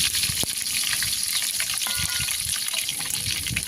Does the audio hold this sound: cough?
no